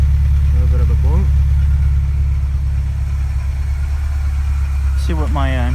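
A Porsche 944 engine idles at operating temperature with a steady low hum, while occasional misfires add a soft boom; someone talks over it near the start and again near the end.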